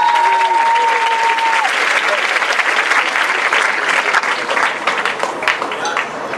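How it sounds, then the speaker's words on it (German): Loud, dense applause from a live audience at a poetry slam final fills the whole stretch, steady and sustained with some cheering, a brief whistle-like tone early on. "euer Applaus bitte"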